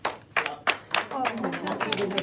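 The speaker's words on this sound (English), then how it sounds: "The longest ovation." An audience applauds at a gathering of the Filipino community in Oslo with Maria Ressa, sharp separate claps at first that swell into sustained, dense clapping mixed with voices.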